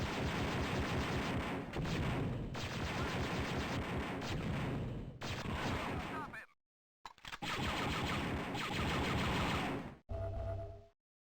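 Video game turrets fire in long dense bursts of rapid gunfire, loud and close, cutting out abruptly twice before resuming, with no talk over them.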